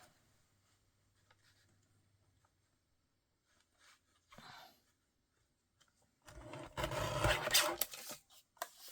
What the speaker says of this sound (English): put it in the guillotine and just cut it with the guillotine